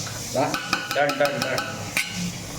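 Wet, thick beef curry stirred in a pot with a spoon scraping and knocking against the sides, a few sharp clinks over a soft simmering sizzle.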